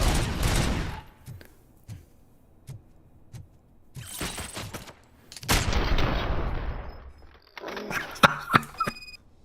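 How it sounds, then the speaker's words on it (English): Video game gunfire, an opening burst then spaced single shots, followed by heavier loud volleys and a cluster of sharp shots at the end, with no talking. "I'm just gonna keep on shooting."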